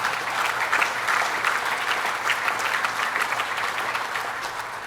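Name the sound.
audience applause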